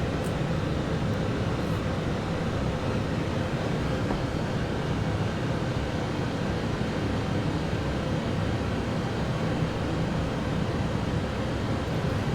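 Inside the cockpit of a PMDG Boeing 777 in a flight simulator with the FTSim+ soundpack, a steady engine and airflow roar drones at a constant level, broad and unchanging throughout with no voices.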